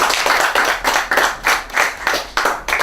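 A graduation ceremony audience claps in a steady round of applause, close and fairly loud, with dense overlapping hand claps and no talk over it.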